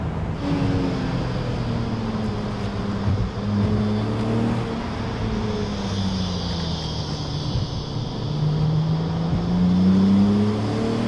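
A BMW Z3 2.8 roadster's six-cylinder engine hums steadily while driving, with engine tones rising and falling as the revs change. Constant road and wind noise sit underneath throughout, with no talk.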